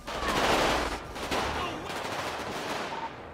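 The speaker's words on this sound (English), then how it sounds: "I'm getting shot." Gunfire in GTA NoPixel role-play at Merryweather Docks: a dense burst of shots loudest early on, then scattered reports continuing under a noisy game backdrop.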